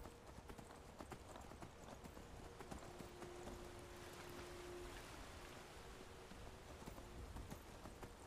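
Horse hooves clip-clop in Skyrim, a quiet and steady rhythm of soft thuds over a faint rushing background, continuing evenly throughout.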